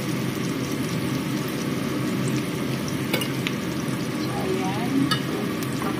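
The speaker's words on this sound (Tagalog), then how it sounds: "Halukayin lang natin, haluin." Anchovies fry in a pan, a steady close sizzle with faint scraping from stirring and a few light clinks, without talk.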